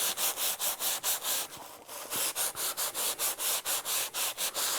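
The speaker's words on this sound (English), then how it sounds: "Now, simply take that material and just start scrubbing it in." Steady back-and-forth scrubbing of a gold pan with citrus cleaner, loud and close, in even rhythmic strokes of about four to five per second with a short pause midway.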